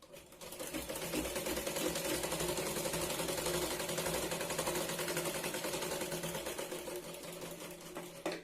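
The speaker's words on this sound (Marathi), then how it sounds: "परत एकदा आपण कडेने ही शिलाई लावून घेतोय" A sewing machine stitches a blouse seam in a steady, fast mechanical whirr, running continuously up close before winding down at the end.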